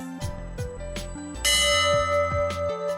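The Abana Bell, a lifeboat memorial church bell at the Church of St Andrew in Cleveleys, rings in several separate struck tones, each ringing briefly over a musical backing.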